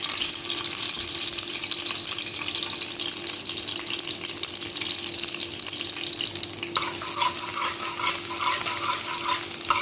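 Garlic cooking in a pan for stuffed vegetables (mahshi): a steady, busy sizzle and crackle of frying with watery hiss, continuous and fairly close, with no talk over it.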